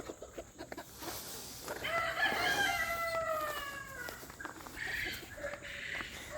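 Rooster crowing amid clucking chickens and other fowl on a homestead, several long crows overlapping in the middle with background farmyard bird chatter throughout, fairly close.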